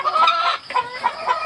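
Caged farm chickens cluck and squawk up close in quick, overlapping bursts that fill the whole moment, with no voices.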